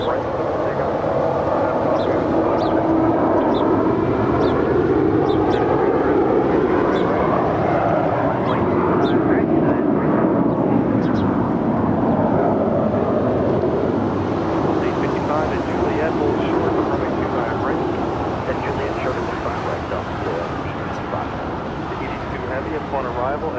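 Airliner departing Los Angeles International Airport from runway 25 right, a loud broad jet engine roar swelling and sweeping across at close range, with radio voices talking over it.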